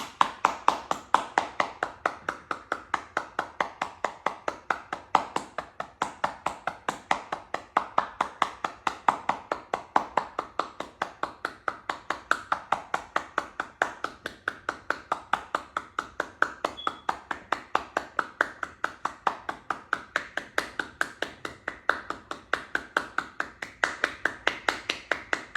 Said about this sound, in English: Now breathe out, clap, and try to breathe out and hold.